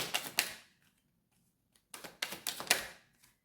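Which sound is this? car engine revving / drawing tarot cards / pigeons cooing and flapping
drawing tarot cards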